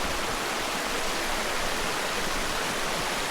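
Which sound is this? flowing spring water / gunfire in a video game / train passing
flowing spring water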